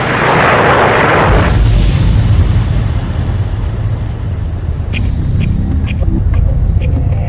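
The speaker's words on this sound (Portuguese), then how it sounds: "e quando atingisse o solo haveria uma grande explosão." A big explosion as a meteor strikes the ground, heard as a loud, continuous low rumble that swells early on and keeps roaring throughout, with faint higher clicks near the end.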